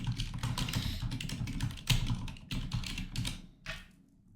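Quick, uneven bursts of keystrokes on a computer keyboard, close and fairly quiet, with brief pauses between clusters of clicks.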